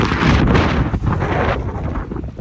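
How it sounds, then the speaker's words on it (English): Strong wind in Iceland buffets the microphone with a loud, continuous roar that surges and dips in gusts throughout, with no other sound standing out. "It is just extremely windy. I've never experienced wind like this in my life."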